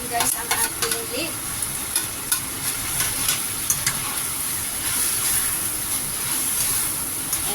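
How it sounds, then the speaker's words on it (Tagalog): Leek sizzles loudly in a frying pan while being stirred, with sharp scraping clacks of a utensil against the pan early on over a continuous bright frying hiss that carries through to the end. "ihalo na natin guys ang ating leek"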